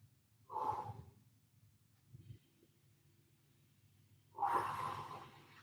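During a home lower-body workout, a person draws a deep, audible breath in through the nose, followed by a soft pause and another long, airy breath, close to the microphone.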